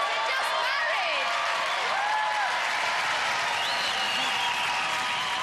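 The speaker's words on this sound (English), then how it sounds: "Hey, round of applause, they're just married!" Studio audience at a 1992 Gladiators television heat applauds and cheers newlyweds, a loud steady wall of clapping with whoops and a voice speaking over it throughout.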